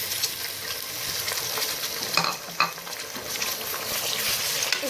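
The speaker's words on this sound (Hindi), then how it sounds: "इसमें हम टमेटोज ऐड कर देंगे।" Onions and tomatoes sizzle in a hot pan, a constant close frying hiss broken by a couple of sharp scraping stirs partway through, with no one talking.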